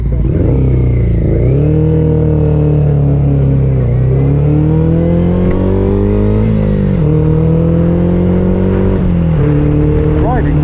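Honda CB400 Super Four motorcycle with upjetted carburettors being ridden, a loud continuous four-cylinder engine drone that rises and falls through several gear changes, recorded close with heavy wind noise.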